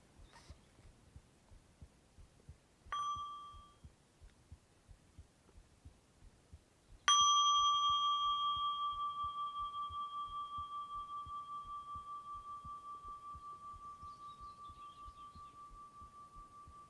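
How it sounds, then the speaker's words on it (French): A meditation bell is struck twice, first a short ring and then a clear resonant strike whose bright tone sustains and fades slowly over many seconds in a quiet room, with a soft steady pulsing beneath. "On va juste inviter un son de cloche pour commencer."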